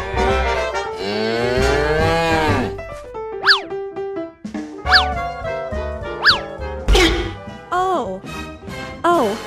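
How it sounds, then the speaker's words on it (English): Cartoon-style cattle lowing on a farm in an animated children's story, several drawn-out, swooping moos repeating across the scene over a tonal musical backing, fairly loud and close. "The country cows are also here."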